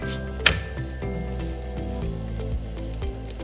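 An achaar (pickle) paratha cooks on a pan just after being flipped, giving a soft, steady sizzle. One brief sharp tap comes near the start, and low tonal sounds hum underneath throughout.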